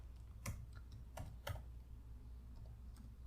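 Several quiet keystrokes on a computer keyboard tap out a short line of C code, a few sparse, irregular clicks over a faint steady hum.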